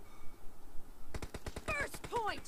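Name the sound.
gunfire from a gun in the video game PUBG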